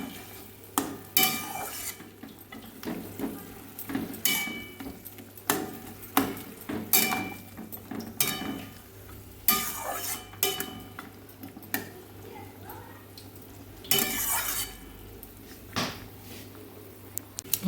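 Mustard greens curry with lentil dumplings being stirred and fried in a pan, with repeated scraping and clattering strokes of a utensil against the pot over a steady low sizzle.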